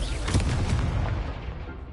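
The Confringo fire spell explodes in a Hogwarts Legacy duel, a loud booming blast that rumbles and fades away over a couple of seconds.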